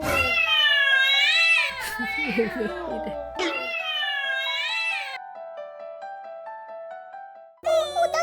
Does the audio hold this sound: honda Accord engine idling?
no